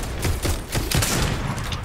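A goo gun firing in Fortnite, a loud and close run of rapid, splattering shots in an uneven rhythm with no voices.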